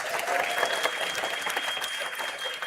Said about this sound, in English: Let's have a round for applause for all the teams competing here.